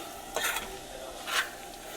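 Spice paste for a Telugu fish curry frying in a pan, heard as two brief soft bursts of sizzle and stirring scrapes over a quiet background, with no talking.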